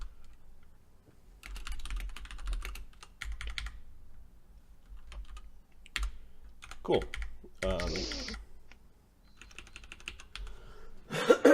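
Typing on a computer keyboard, with bursts of rapid key clicks spread across the clip between pauses, close and moderately loud, while a voice speaks briefly over it.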